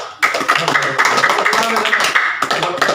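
A group of children in a classroom claps for the second-place race winners, a dense burst of many hands starting abruptly and continuing steadily, with a teacher's voice speaking over it.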